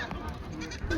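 A goat at a livestock market in Kalamnuri taluka, Hingoli district, Maharashtra, gives one short, faint bleat amid quiet background murmur.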